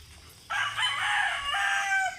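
A rooster crows loudly and clearly in a rural farmyard where chickens are kept, one long call sustained for over a second with faint clucking in the quiet background.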